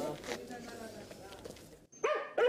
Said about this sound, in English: The dogs are ecstatic to see their owners.